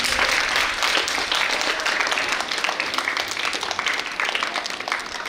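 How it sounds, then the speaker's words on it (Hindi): An audience claps steadily to welcome guests and staff at a school event for a women's empowerment program, a dense, sustained round of applause filling the room from start to finish. "हम तालियों से स्वागत करेंगे"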